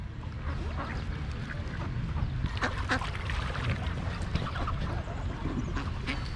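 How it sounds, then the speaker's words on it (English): Geese and ducks being fed Cheerios from a sea-doo on the water, honking and quacking steadily and close by over a constant low engine and water rumble. "So, gonna feed my friends, the ducks. Here come the geese."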